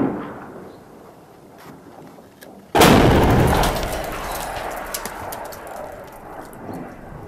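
A sudden loud artillery cannon blast from a Free Syrian Army gun in Aleppo firing on regime army positions, a single sharp report followed by a long rumbling decay over faint background noise.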